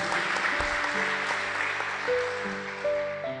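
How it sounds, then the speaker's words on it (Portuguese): Church congregation clapping hands for Jesus during a Portuguese-language evangelical service, a brief burst of applause mixed with sustained tones and room noise. "Clap the hands for Jesus."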